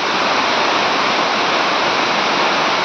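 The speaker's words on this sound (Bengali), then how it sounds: "ওদিকে বারান্দার মধ্যে বৃষ্টিটা ঢুকে" Morning rain falling onto a balcony makes a loud, dense, unbroken hiss that holds at the same level throughout, with no voices.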